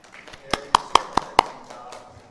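A few sharp hand claps from an audience at a Korean academic symposium, five distinct slaps in quick succession with a faint murmur between them, fairly close and brief rather than sustained applause.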